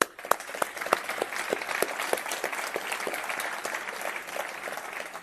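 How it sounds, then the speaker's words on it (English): An audience applauds at a team roll-out event, with a dense, continuous patter of many hands clapping and a few sharper individual claps standing out near the front, moderately loud throughout. "Let's give the members of HRD a round of applause."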